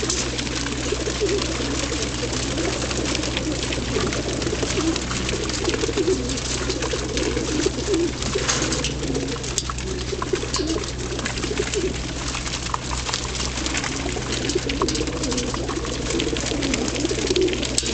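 Soft, low pigeon coos repeat continuously from several birds close by, layered over a steady background hum.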